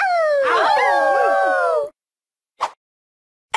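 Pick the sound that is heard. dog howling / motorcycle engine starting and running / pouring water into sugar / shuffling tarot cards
dog howling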